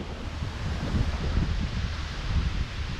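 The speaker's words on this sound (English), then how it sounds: "There's that wind, guys." Wind gusts outdoors on a river during a fly fishing trip, buffeting the microphone in a low, steady rumble that swells and eases. The sound is loud and close with no voices.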